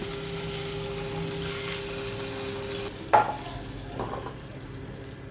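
Hot tempering poured into a pot of Kerala-style sambar, a steady sizzle that cuts off and gives way to a sharp clink and a few faint stirring sounds, close and quiet with no talk.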